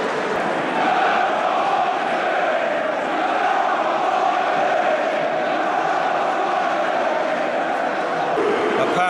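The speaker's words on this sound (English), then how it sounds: "They're booing." Football crowd booing after a match called off in thick fog, a steady, unbroken mass of disgruntled voices that holds at an even level throughout.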